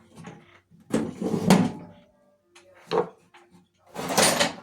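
Several wooden drawers in a workshop tool cabinet slide and knock in short bursts, a series of close clattering thumps and rattles with brief pauses between them.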